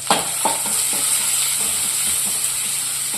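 Curry leaves sizzling in hot oil with mustard seeds, giving a steady hiss of frying with a few soft stirring or spattering taps close by.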